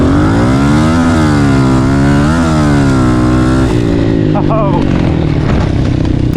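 A Honda CRF110 pit bike fitted with a 147cc big bore kit accelerates hard, its loud buzzing engine climbing in pitch through the revs before easing off, close by.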